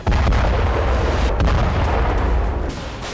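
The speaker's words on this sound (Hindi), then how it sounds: "नॉर्थ कोरिया की आर्टिलरी का गरजना बंद नहीं हुआ है" Heavy, continuous booming and rumbling of North Korean artillery fire, like rapid shelling, loud and dense, with sharp cracks layered over a deep roar.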